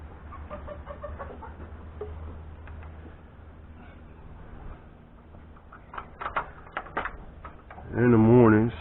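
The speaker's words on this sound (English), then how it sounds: "In the mornings, you let the chickens out" Chickens on a homestead give a burst of loud, close clucking near the end, after a stretch of quiet background with a person talking.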